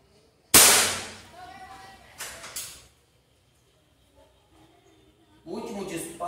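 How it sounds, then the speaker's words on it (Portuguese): A single sharp, loud shot from a third-generation Rossi Dione rifle fired at a tire bursts out and decays, followed by softer clanks and mechanical noises, then rustling handling sounds. "Agora é o disparo com o Rifle"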